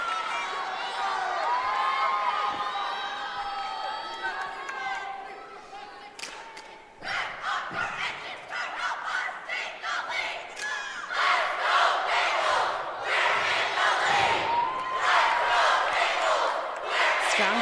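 Large crowd of fans at a high school competitive cheerleading state final, roaring and shouting in waves that build louder toward the end, with a brief dip midway.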